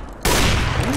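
Burst of gunfire in the video game CS:GO on the Overpass map: a sudden loud onset of rapid, dense shots that sustains to the end of the short clip.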